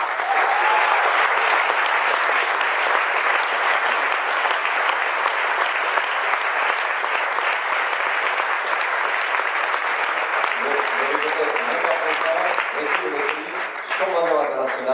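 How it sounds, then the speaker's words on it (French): Sustained audience applause at a film festival awards ceremony, a broad steady roar of clapping from a large crowd, with a voice starting to speak over it near the end. "Merci d'applaudir Oula et Nathan de Robbie M"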